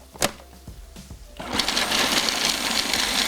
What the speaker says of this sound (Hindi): Chopper machine.